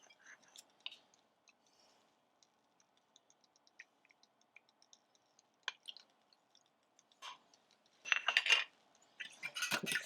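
An egg and a tablespoon of milk are beaten in a bowl as a glaze for sweet bread, with faint sparse utensil clicks at first, then louder rapid scraping strokes near the end.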